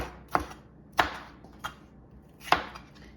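Vegetables being chopped for a vegan lasagna sauce, four crisp knife strikes on a cutting board at uneven intervals, close and clear in a quiet kitchen.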